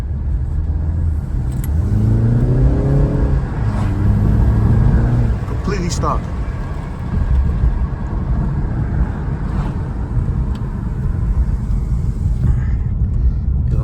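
A completely stock BMW 330i with turbos drives at night in Germany, its engine rumbling loudly and rising in pitch as it accelerates, with road and wind noise throughout and someone speaking briefly.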